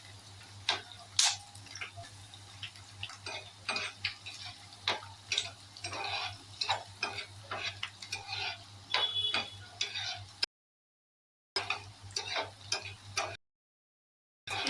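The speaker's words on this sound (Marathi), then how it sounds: "तेलामध्ये एकदम जास्त छान टेस्ट लागेल चटणीला लाल होईपर्यंत थोडासा भाजत राहायचा" Garlic chutney roasting in oil until it turns red, with steady spoon stirring and scraping, scattered ticks and crackles over a low hum, and two brief dropouts near the end.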